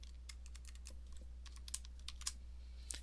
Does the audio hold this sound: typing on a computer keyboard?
yes